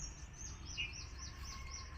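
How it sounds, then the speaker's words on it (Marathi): Birds chirp in a mango orchard in rural Konkan, a steady chorus of small calls layered over constant background hiss, moderately distant and without talk. "पक्ष्यांचं किलबिलाट आणि ह्यो बघा ह्यो पक्षी बघा"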